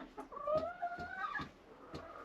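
Chickens clucking close by, several birds making short overlapping calls and a few drawn-out squawks in an enclosed space.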